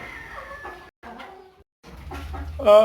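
A native country hen clucks in short, close bursts with brief pauses, ending in a louder squawk.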